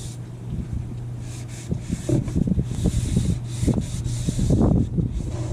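Teak rails on a Hatteras yacht are sanded by hand with bare hands, making close, steady rubbing strokes in an irregular rhythm. Outdoor wind noise runs underneath, and a low constant hum sits below the strokes.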